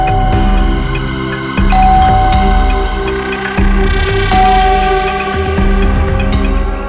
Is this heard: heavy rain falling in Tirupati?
no